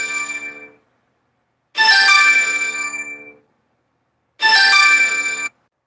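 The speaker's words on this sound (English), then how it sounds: "Gotta take a phone call." A phone ringtone plays loudly and close, three separate rings of a bright tonal melody with silent gaps between them, no talking.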